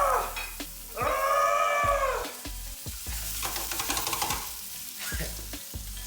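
A bone-in pork roast drops into a very hot oiled pan and sears with loud, close sizzling and crackling that rises sharply and then keeps spitting, with some clattering from the pan.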